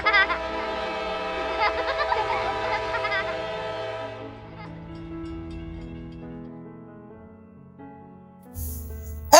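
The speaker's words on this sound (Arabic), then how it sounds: "ثم انطلق القطار مع ضحك الأطفال." A red train sets off, with a sustained horn or whistle tone that fades over several seconds, then a louder rumble returns at the end, under cartoon-style background music.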